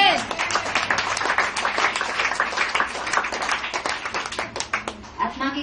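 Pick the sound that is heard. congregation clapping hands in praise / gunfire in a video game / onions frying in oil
congregation clapping hands in praise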